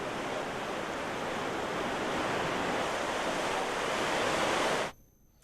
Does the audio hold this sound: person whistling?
no